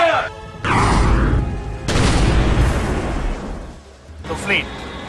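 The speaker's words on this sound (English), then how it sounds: "Stand by to fire! Now, fire!" A warship's gun aboard an Indian Navy vessel fires at sea, a loud booming blast followed by a long rumbling roar that fades over several seconds, with shouted commands just before.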